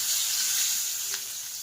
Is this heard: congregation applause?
no